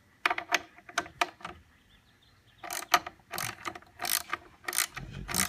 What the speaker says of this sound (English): And then we can take our ratchet and start loosening.